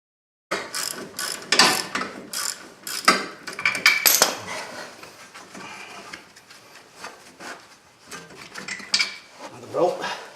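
A ratchet clicks in rapid bursts while tight rear brake caliper bolts on a 2014 Nissan Rogue are broken loose, close and sharp ratcheting with short pauses and a few metallic clanks.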